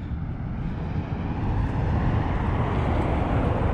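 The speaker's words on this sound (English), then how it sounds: "There's a whole bunch of military helicopters over there." Steady broadband engine roar from military helicopters overhead, a continuous droning rush that swells slightly louder as it goes on.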